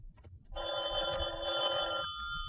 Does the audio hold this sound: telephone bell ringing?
yes